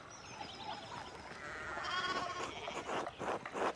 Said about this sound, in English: the fence rails fell and the sheep started hopping.